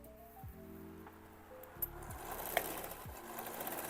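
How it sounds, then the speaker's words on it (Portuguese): Sewing machine stitching denim scraps into a hair-clip holder, running in short close bursts with pauses between seams and a steady mechanical whir while it runs. "Agora aqui na parte de baixo, vou costurar só os inícios."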